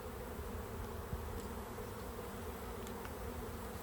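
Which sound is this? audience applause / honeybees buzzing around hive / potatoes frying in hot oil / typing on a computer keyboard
honeybees buzzing around hive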